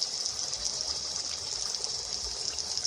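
Boiling liquid is poured steadily into Kerala neyyappam batter, a smooth continuous gushing stream, close and even throughout.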